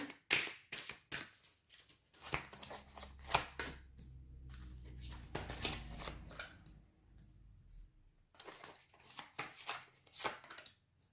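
Tarot cards are shuffled by hand for a cross spread, giving a run of quick crisp riffles and soft flutters in bursts, close and fairly quiet, with short pauses between.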